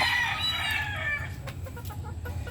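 A bulik rooster gives a brief close crowing call that trails into low clucking and soft shuffling, with no talking.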